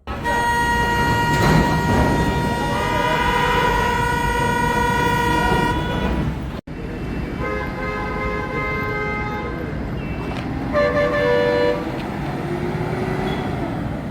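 Vehicle horns blare at a highway toll plaza, loud sustained tooting tones that overlap and swell over steady traffic rumble, with a brief break midway before more honks resume.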